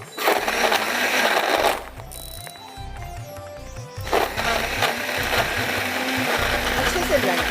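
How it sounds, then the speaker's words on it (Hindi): A kitchen blender whirs loudly as it blends ginger juice, black salt, sugar, ice and water, running in two long bursts with a short pause between them, and a voice talks briefly over the motor. "ब्लेंडर में डाल के इसको हम ब्लेंड कर लेते हैं।"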